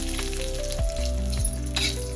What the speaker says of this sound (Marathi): आता मसाला भाजून घ्यायचा आहे आपल्याला.